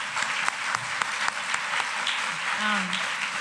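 An audience at a global development lecture applauds with steady, dense clapping, while a voice speaks briefly over it near the end.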